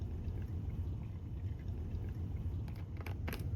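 Water being poured into a container meant for orange juice, a soft steady trickling stream heard close and quietly, with a couple of brief higher clinks near the end.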